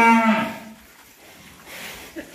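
A loose cow gives a single loud, drawn-out moo close by at the start, trailing off into quieter outdoor ambience with a faint second call later.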